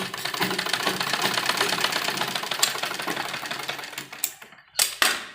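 A sewing machine stitches a pleat into an embroidered net lehenga blouse, running in a close, steady, rapid clatter for about four seconds before stopping, with a few short bursts and bumps after.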